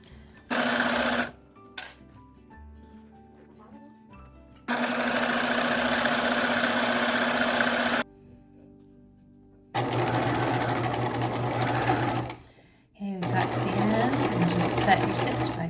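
A sewing machine stitches a fabric scripture case with a large zipper in bursts of steady whirring, stopping and restarting several times, loud and close, with a few short clicks between runs.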